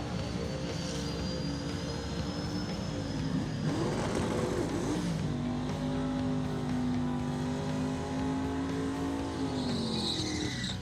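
Drag cars launching side by side in a TX2K25 qualifier at Texas Motorplex, loud roaring engines with tire squeal and rising revs as they pull away, then a long sustained high-pitched pass fading off.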